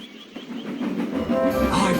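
A steam train's coaches jolt into motion one after another, a low rumbling build of couplings and wheels that grows louder and denser over a couple of seconds, close by, with no voices.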